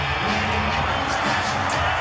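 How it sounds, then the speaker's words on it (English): A professional wrestling crowd cheers on a recording played back during a radio show, a dense continuous roar of yells and whoops with no break. "Listen to that crowd."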